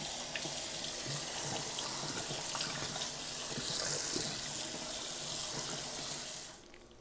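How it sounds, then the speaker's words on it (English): Cold water from a kitchen tap pours steadily over cooked manicotti shells in a sink, a continuous close splashing hiss that holds even for several seconds before cutting off near the end. "I'm going to run some cold water over them"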